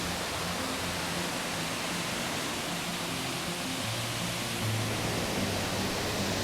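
High-flow waterfall in Victoria, Australia, heard at the base where it pours down: a constant loud rushing roar, even and unbroken, with no talking.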